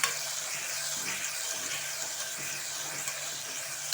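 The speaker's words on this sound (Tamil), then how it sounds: "இதையும் நல்லா வதக்கிக்கலாம்." Onions sizzle and fry in a hot pan for tomato rice, a steady close hiss with faint stirring scrapes now and then.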